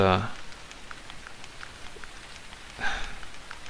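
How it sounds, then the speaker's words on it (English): Rain falls steadily in the hunting game The Hunter 2013 near a hog feeder, a soft continuous patter with a few louder drop bursts, heard on its own. "Now it's even starting to rain."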